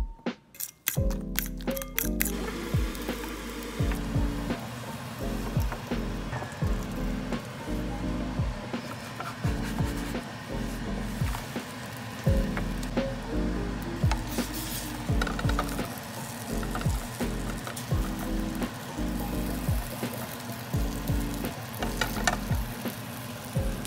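A Taiwanese egg pancake, danbing, sizzles and fries steadily in a pan, with a continuous crackle and occasional tapping of a utensil against the pan; no voices are heard.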